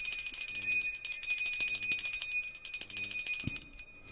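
A small hand bell rings continuously for a smudging cleanse before a tarot reading, with bright sustained metallic ringing close to the microphone and soft bumps beneath.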